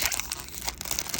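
A 1988 Fleer baseball card pack wrapper being cut and torn open, producing a dense, close crinkling and tearing of foil-like wrapper that runs steadily and loudly through the moment without pause, no voices.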